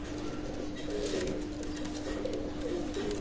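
Pakistani imported bloodline pigeons coo softly and continuously at a loft, a low steady murmur of overlapping calls under constant background noise.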